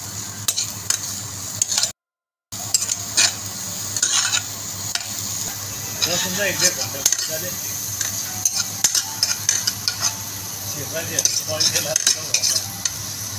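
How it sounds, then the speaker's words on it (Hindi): Mushrooms sautéing with fried garlic in a pan for a cream of mushroom soup, steady sizzle under repeated scraping and clinking of a utensil stirring against the metal, close and continuous, with a brief silent gap early on. "इस मैं भी इसको मशरूम डाल रहा हूँ इसको भी हल्का सा सोते कर देंगे"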